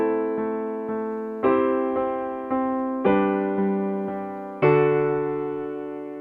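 Solo piano plays a passage, with repeated sustained chords and a low left-hand D struck once beneath them. Notes ring and decay smoothly in a slow, steady pulse, close and clean, with no talking.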